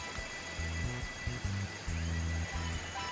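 Flash floodwater in Arkansas rushes past a road and fence, a steady, close, broadband roar of flowing water with a faint low hum running beneath it throughout.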